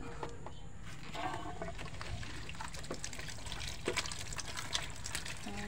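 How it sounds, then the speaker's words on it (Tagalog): Freshly picked fruit being soaked in water, with soft trickling and sloshing of liquid close by under faint background noise, a few small splashes near the end. "Ibababad ko siya sa tubig para matanggal yung ibang hanip na"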